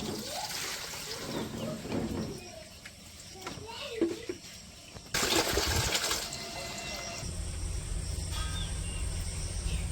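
Water poured out of a container in a village yard, a splashing gush that grows louder partway through, with people talking throughout and insects chirping in the background.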